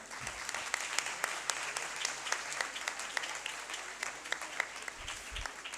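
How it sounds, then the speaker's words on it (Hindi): Audience applause for a teacher at a school event, a sustained patter of many hands clapping at moderate volume with some sharper individual claps standing out. "इस कोशिश को सराहते हुए जोरदार तालियां बजाइए उनके लिए।"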